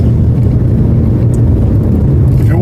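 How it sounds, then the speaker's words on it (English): Truck driving close behind on a highway, a loud continuous low road rumble and engine drone heard from inside a moving vehicle. "This truck behind me."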